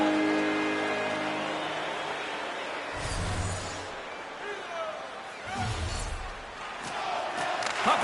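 A hockey arena crowd roars through a tied playoff game late in the period, a dense and loud wash of cheering with swelling bursts and no clear voices standing out.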